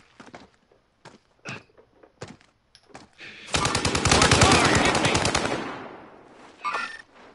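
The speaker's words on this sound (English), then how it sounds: "And you got someone shooting from behind you, too." Gunfire in the Warzone video game: after a few scattered footstep-like thuds, a loud, dense burst of rapid automatic fire rattles for about two and a half seconds, then fades out, with a short sharp sound near the end.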